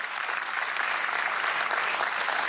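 Sustained audience applause at a political party press conference, an even, full wash of many people clapping together for a couple of seconds, with no voice over it.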